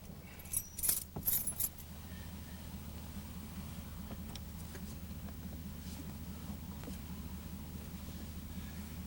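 Keys jangle in a short metallic burst, then a car engine settles into a steady low idle that runs on with faint ticks and clicks and no voices.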